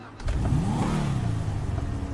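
A car engine in the GTA 5 video game revs up and holds a steady, loud drone for about two seconds, with no talking over it.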